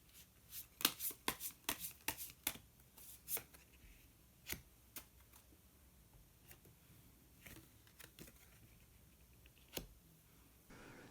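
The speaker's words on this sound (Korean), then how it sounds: "그러면 히든 카드를 한 장 더 뽑아보도록 하겠습니다." Tarot cards are shuffled and drawn close by, with a quick flurry of sharp riffling snaps early on that thin out into scattered single card flicks and taps.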